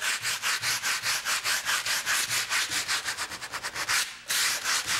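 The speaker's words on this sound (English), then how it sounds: "you can do it with just a plain piece of sandpaper" Sandpaper rubbed by hand back and forth across a wooden table, a steady rapid rhythm of loud, close, rasping strokes that pauses only briefly near the end.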